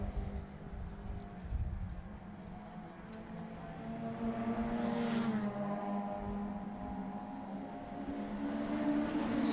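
Race cars at a circuit charging down toward turn 1, a continuous loud engine drone with rising and shifting pitch as the cars accelerate and pass, holding steady throughout without talk.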